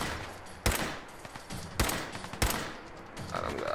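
Gunfire in the Fallout 4 video game: three sharp, loud shots ring out at irregular intervals over a rumbling game background.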